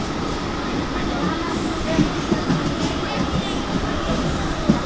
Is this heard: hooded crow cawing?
no